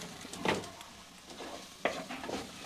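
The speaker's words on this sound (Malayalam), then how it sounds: "അപ്പോൾ അത് ഒന്ന് ഇളക്കുക." Chili spices for an okra tamarind curry with dried sardines fry quietly in a pan, a faint sizzle broken by two brief scraping stirs.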